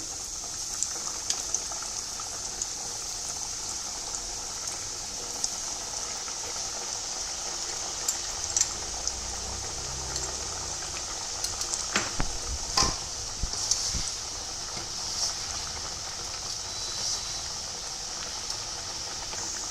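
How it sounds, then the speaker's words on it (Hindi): Chapdi dough for undhiyu deep frying in hot oil over a low flame gives a soft, continuous bubbling sizzle, fairly faint and close, with a few sharper pops and scrapes scattered through it and no talking. "अब हम चापड़ी को गरम तेल में डीप फ्राई कर लेंगे।"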